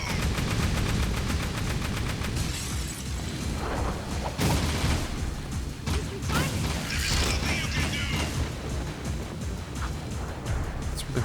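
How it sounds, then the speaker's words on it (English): Rapid blaster fire in the Jak II video game, dense repeated shots and impacts with crashes and explosive booms, loud and continuous throughout. "It's really hard to aim the blaster."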